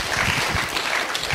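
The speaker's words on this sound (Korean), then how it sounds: "이게 웃을 일이 아니라 박수를 칠 일이에요" Dense, loud applause from a church congregation during a sermon, a continuous wash of many hands clapping at once for the full length.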